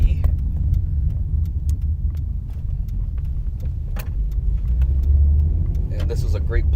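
Car rolling along a city road near a stadium, a steady low engine and tyre rumble heard from inside the cabin with faint interior clicks and rattles throughout.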